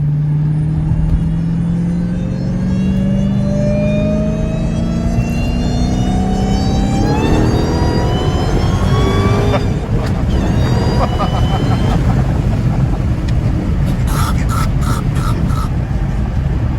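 A supercharged Dodge Hellcat widebody accelerates hard, its engine note climbing steadily through the gears with a rising supercharger whine, loud and close from inside the car, with a voice talking over the roar and a brief rattle near the end.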